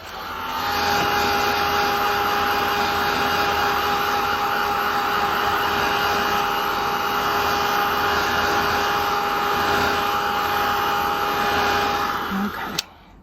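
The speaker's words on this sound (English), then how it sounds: "I'm going to heat set this one first. I have my heat tool here off to the side." Heat tool blowing hot air to set mica powder on a craft tag, a steady loud roaring whoosh with a faint whine, running continuously up close for over twelve seconds before switching off with a click.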